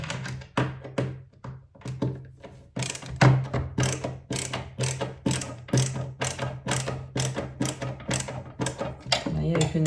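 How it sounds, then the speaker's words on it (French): Parts of a sit-stand desk being screwed together by hand, a fast run of ratcheting clicks and taps repeating steadily and close up, with a voice speaking briefly over them. "Donc maintenant, je vais visser."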